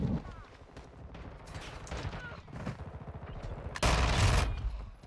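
Rapid SMG bursts ring out in Modern Warfare 2 multiplayer, with clattering automatic fire and a loud burst near the end, mixed with game effects and a voice talking.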